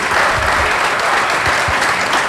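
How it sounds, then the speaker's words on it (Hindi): An audience at a poetry recital bursts into steady, dense applause, loud and continuous for the whole stretch with no pauses. "ढंग से तालियां बजाइए।"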